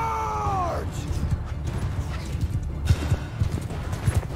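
Cavalry horses gallop in a Mount & Blade 2: Bannerlord battle, a rumbling mass of hoofbeats that runs throughout. A brief whinny rises at the very start, and the hoof thuds grow heavier toward the end.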